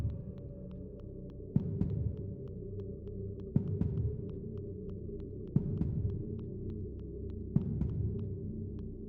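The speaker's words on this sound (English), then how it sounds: "the heartbeat is kind of intense" An intense heartbeat in the video game Small Saga thumps in slow, regular pairs about every two seconds over a constant low hum, with faint ticking in the background and no voices.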